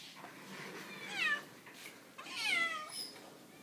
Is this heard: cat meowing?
yes